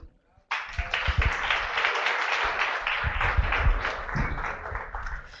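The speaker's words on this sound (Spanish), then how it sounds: "les pido que nos ayuden a recibir con un fuerte aplauso" An audience applauds to welcome a psychotherapy speaker at a talk, steady sustained clapping from many hands starting abruptly and continuing for several seconds, fairly close and full.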